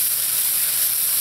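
Tomato paste sizzling steadily in a hot pan while cooking for stuffed peppers, a continuous close bright hiss with no talk over it.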